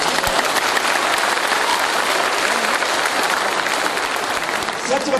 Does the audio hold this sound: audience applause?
yes